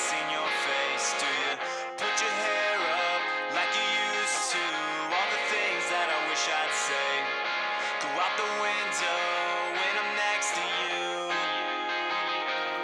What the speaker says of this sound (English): Crazy echo here on the vocals